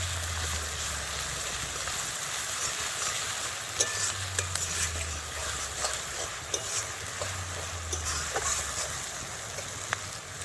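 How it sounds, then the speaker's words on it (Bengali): Garlic paste frying with already-browned onions in a pan for goat intestine gravy, a steady close sizzle with occasional stirring scrapes and small crackles throughout, no talking. "এবার দিয়ে দিচ্ছি রসুন বাটা"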